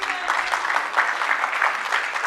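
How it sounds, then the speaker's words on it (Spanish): A church congregation applauds singers and musicians during a Spanish-language Sunday service, the clapping steady and moderately loud for the whole stretch, crowd hands pattering in fast dense bursts. "Denle un aplauso, por favor"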